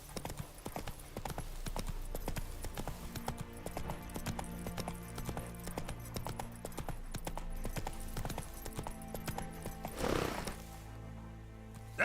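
Hooves of Roach, a horse in a video game, clip-clop in a brisk, steady rhythm, loud and close, running continuously with a short whooshing rush near the end.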